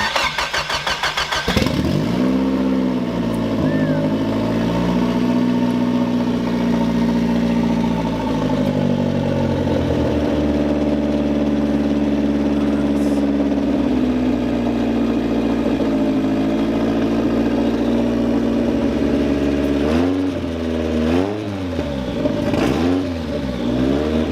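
A Nissan S15 drift car engine cranks and fires, then idles loudly and steadily close by, with a few blips of the throttle near the end.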